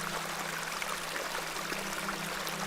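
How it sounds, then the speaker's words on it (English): A small beck flowing steadily in The Excavation of Hob's Barrow, a continuous soft rushing and trickling of water, even in level and unbroken, with no voices over it. "This is a lovely little beck"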